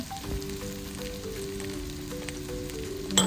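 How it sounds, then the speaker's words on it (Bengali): Goat meat cooking in a pan, a continuous close sizzle and crackle of hot oil with a clunk of the pan at the end. "আমি পাশে আবার একটু খাসির গোছ রান্না বসাই দিচ্ছি"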